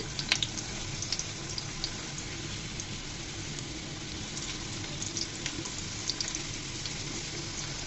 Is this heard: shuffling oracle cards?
no